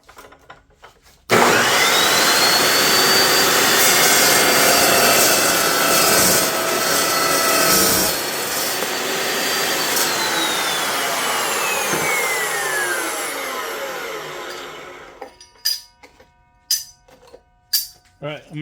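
A metal piece being cut with a power saw in a workshop, giving a loud, steady grinding whine that holds for about fourteen seconds and then winds down, followed by a few scattered clanks.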